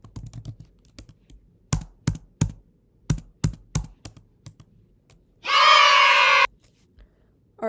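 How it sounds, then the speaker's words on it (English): A computer keyboard is tapped in a distinct rhythm of separate clicks, sparse at first and then a quicker patterned burst, followed by a short loud tonal beep and a final tap. "To ensure accuracy, this rhythm is typed multiple times"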